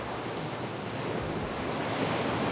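Ocean waves on a French beach, a continuous broad roar of surf with wind noise buffeting the microphone, loud and unbroken, with no voices.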